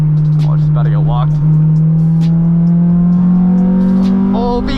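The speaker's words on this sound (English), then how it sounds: "Oh, Vtec just kicked in." Honda car engine revving as VTEC engages while driving in the rain, a loud droning engine note climbing steadily in pitch, with people talking excitedly over it.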